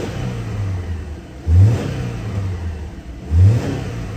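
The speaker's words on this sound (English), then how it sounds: "Nice throttle response" A 2011 Subaru Legacy 2.5-liter engine idles, then revs sharply twice in quick, evenly spaced blips that each rise and fall back to a steady idle.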